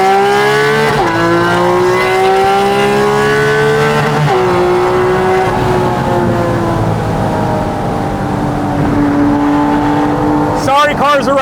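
A Porsche Cayman GT4 RS fitted with a Soul Performance exhaust revs hard and loud, its engine note climbing in long sweeping pulls with brief dips between, close by and dominant, ending in a sharp burst of harsh crackle.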